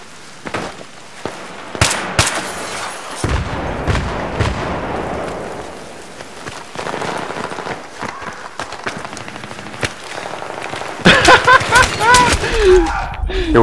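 Gunfire in a competitive 5v5 bomb-mode shooter match, with sharp shots scattered across the stretch and a denser burst of rapid firing near the end, set against game ambience and occasional voices.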